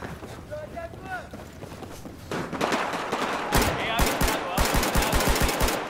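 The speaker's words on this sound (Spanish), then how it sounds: "¿Era uno disparando con una metralleta?" Machine gun fire in Battlefield 4 on the Metro map, rapid loud bursts of automatic shots building in the second half after quieter game sounds, with a voice talking over it.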